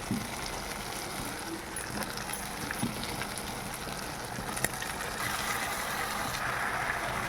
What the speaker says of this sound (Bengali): এবার আমি শাপলাগুলো দিয়ে দেবো